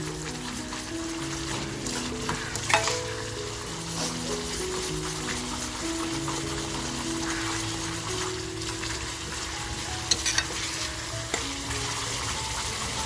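Vajri masala fries and is stirred in a pan over a full gas flame, giving a steady, dense sizzle with occasional scraping strokes and a low hum running underneath, no voices.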